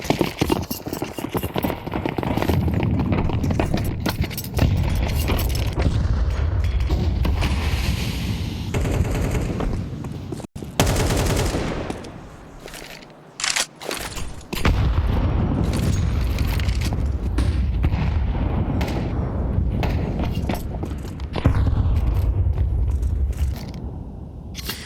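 Grenade blasts and gunfire in a Counter-Strike match at the IEM Dallas 2025 esports event, GamerLegion against FURIA. Dense, loud bursts of shots and booms run almost continuously, broken by a brief quieter gap midway.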